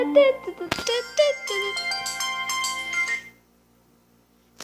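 A phone ringtone plays as a bright electronic melody of rising and falling tones for about three seconds, then cuts off into near silence with a brief sound at the very end.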